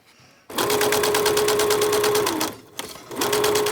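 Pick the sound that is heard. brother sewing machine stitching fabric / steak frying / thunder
brother sewing machine stitching fabric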